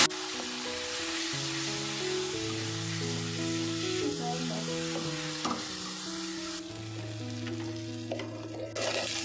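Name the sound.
sautéing ground spices for Golbari-style mutton kosha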